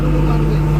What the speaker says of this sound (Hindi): ये इंजन की आवाज़ है।